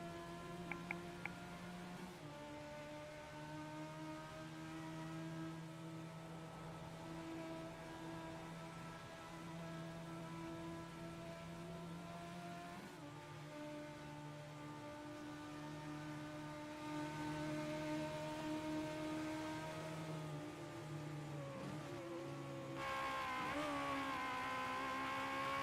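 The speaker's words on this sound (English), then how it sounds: "let's just enjoy the sounds of this car for a moment" A Legends race car screams at full throttle around Bathurst during a World Challenge race, its high-revving engine steady and loud with gear-change dips, heard from on board with no voices.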